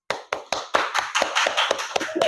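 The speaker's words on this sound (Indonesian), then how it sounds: "Mari beri tepuk tangan untuk kelompok melon." Students in a classroom clap for a small group in a short burst of sharp, close handclaps, at first in an even rhythm and then overlapping and a little ragged.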